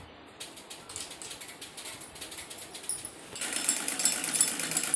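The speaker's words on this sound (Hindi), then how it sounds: "तो दोनों तरफ हम सिलाई लगा लेते हैं डबल करके।" A sewing machine stitching a double seam on the crotch area of a salwar runs in a fast, even rattle of needle strokes, close and moderately loud, growing slightly stronger toward the end.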